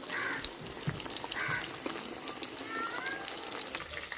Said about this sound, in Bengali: মাছ ভাজা হয়ে গেছে, নামাই নিব।